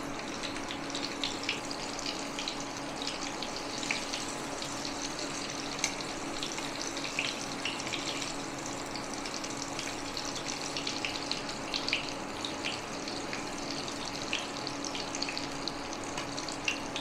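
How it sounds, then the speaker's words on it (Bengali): Bengali topse fish pakora fries in oil over low heat with a steady, soft sizzling hiss that runs unbroken throughout, with no talking. "মাছটা আমি কমিয়ে ভাজছি"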